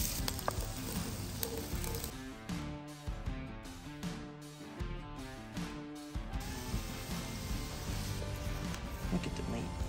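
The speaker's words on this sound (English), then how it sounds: "We're gonna put the onion, garlic, and jalapeno in first." Onion, garlic and jalapeno frying in a pot over an open fire for snapping turtle gumbo, with a steady sizzle under people talking.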